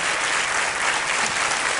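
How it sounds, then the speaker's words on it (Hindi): Dense, steady applause fills a studio audience honoring a Kaun Banega Crorepati quiz show winner, loud and continuous throughout with no break. "बहुत तालियों के साथ इनका हम अभिनंदन करते हैं"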